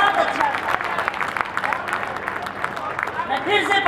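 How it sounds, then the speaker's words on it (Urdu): Audience applause at a poetry recital at the Bulandshahr numaish, a dense, sustained wash of many hands clapping close and loud, with crowd babble mixed in and a voice speaking over it. "زوردار تالیاں آپ اپنے لیے بجائیے"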